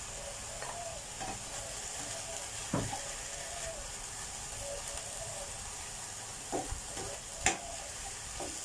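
Homemade salted egg yolk and minced chicken breast stir-fried in a pan: a constant soft sizzle with occasional clinks and scrapes of the spatula against the pan, nearby and fairly quiet, no talking.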